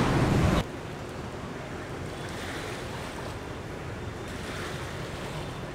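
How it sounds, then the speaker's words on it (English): Fast-moving water rushes in a steady, roaring wash with wind noise on the microphone, loud and unbroken, starting with a sharper gust. "the water moves really fast"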